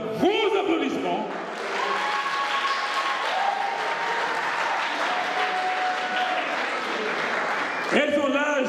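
Audience applause at a Miss Ivoire Luxembourg & 3 Frontières pageant, steady dense clapping that fills the room for several seconds, with brief louder bursts at the start and end.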